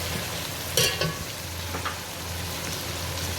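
Garlic and ginger paste frying in a pan for chicken biryani, giving a steady close sizzle with a few brief clinks of stirring and no voices.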